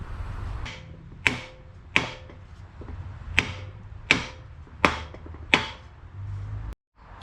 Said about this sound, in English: Clearly you just smashed it on with a hammer.